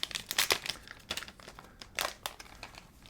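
A Kickstarter package being opened with scissors, giving bursts of close crinkling and tearing of packaging in uneven clusters, fairly quiet, with no talking.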